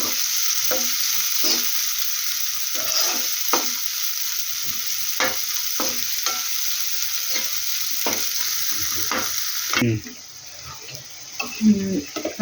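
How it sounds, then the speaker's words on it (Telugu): Onions and green chilies frying in a pan until golden, a constant bright sizzle with scattered stirring scrapes and clinks, then a brief burst of running water near the end. "ఆనియన్స్ గోల్డ్ కలర్లో వచ్చేలా ఫ్రై చేసిన ఫ్రెండ్స్"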